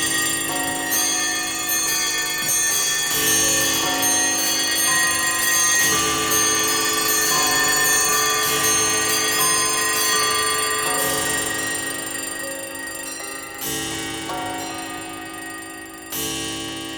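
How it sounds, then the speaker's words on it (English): Clocks, alarm clocks and bells ring together in the opening of a song, a dense, loud clattering of chimes and ringing that carries on steadily for the whole stretch, with no talking. "all the clocks and all the alarm clocks and all the bells and all the things colliding together"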